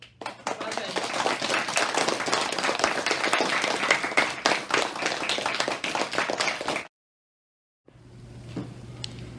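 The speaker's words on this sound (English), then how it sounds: "give you the loudest round of applause at all" Students and families at a Year 6 leavers' ceremony give a long round of lively clapping that fills the room before cutting off abruptly into near silence, followed by a faint hum and quiet room noise.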